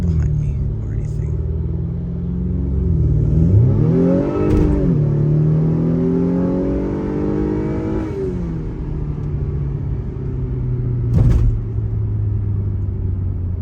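A tuned 2021 Acura TLX A-Spec with a 2.0-litre turbo four-cylinder accelerates hard from inside the cabin. Its engine drone rises steadily through the gears with brief dips at the shifts, and the rumble stays loud and near.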